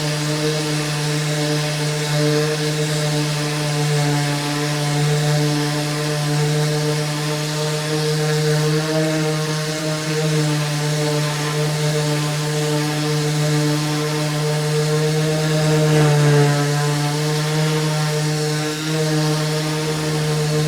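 A MAXXT electric 5 mm random orbital palm sander runs steadily on its high setting, giving a loud, continuous motor whine and hum that holds evenly without pauses.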